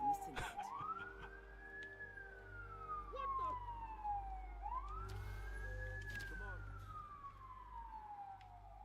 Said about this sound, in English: Dang, them sirens are loud.